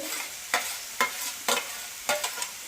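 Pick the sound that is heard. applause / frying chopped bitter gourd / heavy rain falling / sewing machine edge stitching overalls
frying chopped bitter gourd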